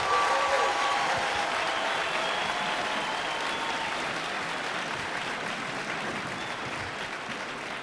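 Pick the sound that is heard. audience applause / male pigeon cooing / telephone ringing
audience applause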